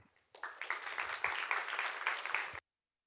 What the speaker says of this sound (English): let's give Professor Rass a big applause